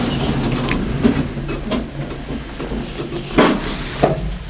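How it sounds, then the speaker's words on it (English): Doors of a modernised old passenger lift at Barts Hospital slide shut with a few soft knocks and a final thud, close by, over a steady low machinery hum. "Doors closing."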